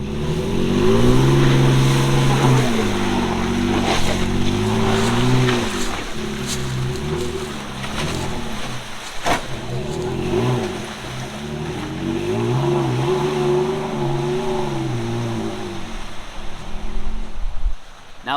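A two-wheel-drive truck's heavy engine revs and strains continuously in mud, its pitch rising and falling as it churns and slips, loud and close throughout.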